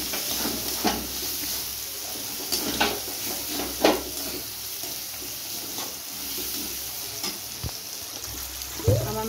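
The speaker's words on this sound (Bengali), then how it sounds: "এবারে সব উপকরণগুলোকে একটু নাড়িয়ে নিতে হবে ভালো করে।" Ground cumin and coriander fry in oil in a pan for ghugni while a spoon stirs them, giving a continuous sizzle with occasional scrapes and knocks against the pan, close and fairly loud.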